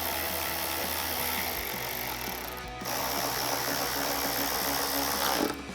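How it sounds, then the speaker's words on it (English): A ratchet fitted with a T30 socket tightens bolts on a Morimoto 4Banger ditch light kit mounted to a Jeep Wrangler JL, giving a dense run of quick clicks that pauses briefly midway, then resumes, close and steady with no talk. "We'll grab our ratchet with our T30 socket and you tighten those two down."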